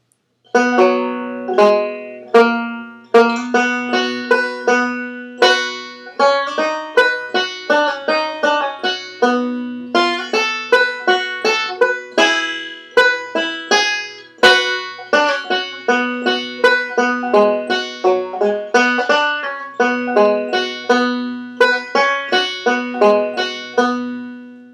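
Bluegrass banjo picks the first A part of a bluegrass tune alone, bright three-finger rolls running in a steady, quick rhythm with even, sharply plucked notes from start to finish.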